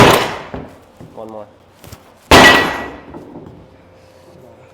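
A hammer strikes a wooden joint during a maple glue-up, with a sharp impact at the start and a louder, ringing blow midway, separated by softer knocks and a brief voice.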